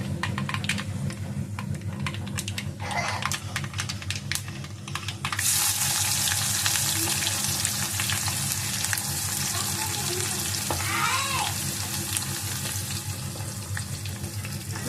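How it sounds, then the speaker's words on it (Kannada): Sliced onions and curry leaves sizzle in a hot pan, a continuous bright frying hiss that jumps louder partway through as the onions go in, with faint clatter. "ಈಗ ಉಳ್ಳಾಗಡ್ಡಿ ಹಾಕೊಂಡೀನಿ ನೋಡ್ರಿ. ಸ್ವಲ್ಪ ಫ್ರೈ ಅಲ್ರಿ."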